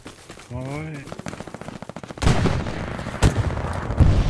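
Rifle and machine-gun fire in the World War II shooter Hell Let Loose, a run of sharp, close shots and bursts building into heavy gunfire, with a voice heard briefly at the start.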